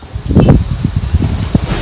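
Wind gusts outdoors under a cloudy sky, with a low rumbling buffet and rustling leaves that swell and ease over a couple of seconds. No one speaks.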